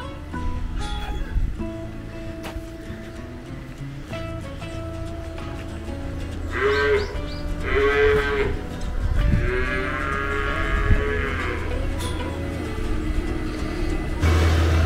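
Dairy cattle low and moo repeatedly inside a cowshed at a gelato maker's farm in Okayama, several drawn-out calls at mid distance over a steady hum of barn machinery, with no talk.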